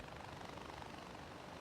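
A helicopter sets down in the video game Far Cry 4, its rotor making a steady, dense, close whirring drone with no break and no talk over it.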